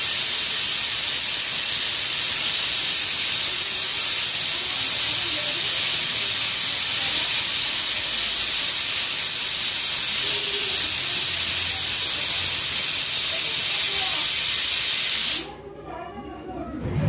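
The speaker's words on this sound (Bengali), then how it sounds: "এই একটা সিটি উঠলো" A pressure cooker whistle releases steam in a long, loud, continuous hiss close by, cutting off abruptly near the end and leaving quieter kitchen sounds.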